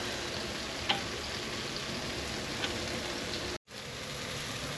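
Fish fillets browning in a hot pan for guajillo-chile seafood tacos, a steady close-up sizzle and crackle with a few sharper pops, no talking.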